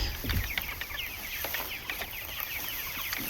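Chickens on a farm cluck and chatter close by in quick, overlapping calls over a constant background hum, with a few low thumps at the start.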